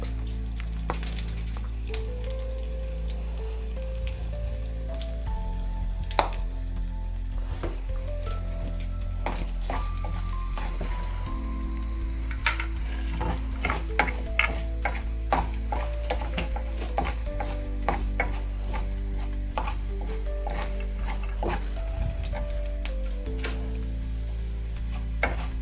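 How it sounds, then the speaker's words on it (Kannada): Cashews, curry leaves and asafoetida fry in hot oil for upma, giving a continuous close sizzle with occasional spoon scrapes and clinks against the pan throughout. "ಇದೆಲ್ಲ ಚೆನ್ನಾಗಿ ಫ್ರೈ ಆಗಲಿ."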